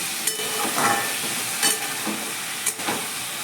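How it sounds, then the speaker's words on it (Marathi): Eggplant and potato pieces sizzling and frying in a pan, a steady close hiss with soft stirring scrapes every second or so and no voices. "एक दोन मिनटं आपण परतून घेऊया"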